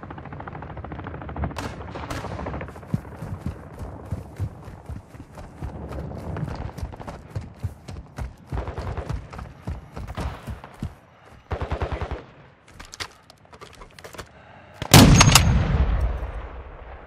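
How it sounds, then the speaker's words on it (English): Gunfire rings out during a Call of Duty Warzone 2 DMZ match, with dense bursts of shots and rapid automatic fire running throughout, a short lull near the end, then a loud close volley. "Taking effective fire!"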